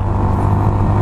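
Honda Monkey motorcycle, a 2019 model, accelerating on a daily commute, with a steady loud engine drone and low rumble that holds close and constant throughout.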